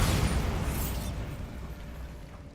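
The Bombarda spell exploding in Hogwarts Legacy: one loud, close, broadband blast that bursts at once and then rolls off into a fading rumble over a couple of seconds, with no voices.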